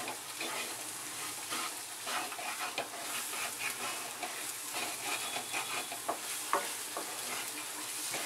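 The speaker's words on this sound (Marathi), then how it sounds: "आता ह्याच्यामध्ये बघा हा काळा घेवडा मी टाकते।" Black field beans are tipped into a pan with red chili powder and salt and stirred, a soft steady sizzle with frequent light scraping and clinks of the spoon.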